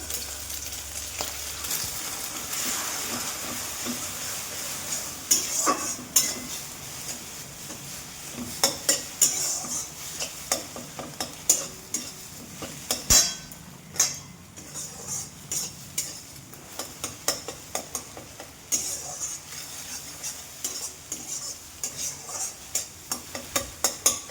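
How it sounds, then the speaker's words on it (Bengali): Eggs frying and being stirred in a pan for a simple Bengali egg and bottle gourd dish, with a steady sizzle under a long run of scraping and clinking spatula strokes, close and fairly loud, no talk. "আগে ডিমটা ভেজে নেব, নিয়ে তুলে নেব।"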